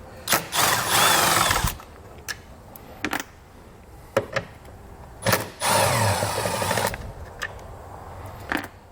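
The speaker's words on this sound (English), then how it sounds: "In order to do this, we're going to need a T30 Torx bit." A T30 Torx bit on a power driver backs out taillight screws on a 2020 Jeep Cherokee, with several short whirring bursts of about a second each, separated by sharp clicks and brief pauses, close up and with no talking.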